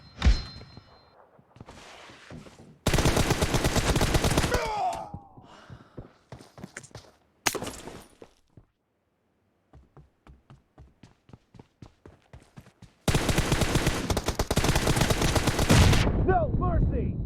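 Assault rifle fire in the shooter game PUBG, loud sustained automatic bursts alternating with lone single shots and short quiet gaps, then another long rattling burst near the end.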